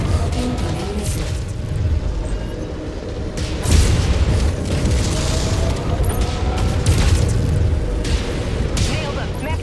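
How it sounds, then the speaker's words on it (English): Missile explosions in the Mechwarrior video game: continuous loud booming blasts and rumbling impacts, dense and layered, with game radio voices mixed in. "Incoming missile."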